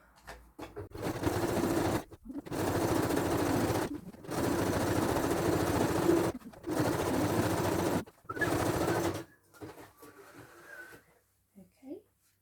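A sewing machine runs a wide, long zigzag stitch along a skirt's side seam in five steady bursts of rapid needle chatter separated by brief pauses, ending with quiet handling.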